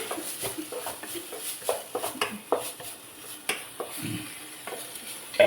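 Onions frying in a pan for bread upma, a soft sizzle under frequent scraping and stirring of a spoon against the pan, with occasional clinks of metal cookware; no talking.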